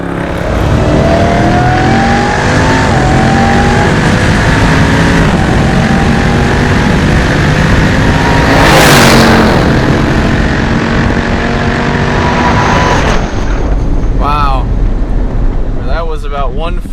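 A 1,000 horsepower Jeep Trackhawk with an upgraded supercharger launches with all-wheel drive and pulls hard at full power, its loud engine note rising steadily through the gears from inside the cabin, then easing off near the end as voices speak.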